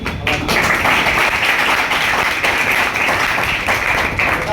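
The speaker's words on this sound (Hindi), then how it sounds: "तो एक बार जोरदार ताली" Loud, continuous clapping from a room full of coaching-class students, close and dense, holding at full strength from start to finish.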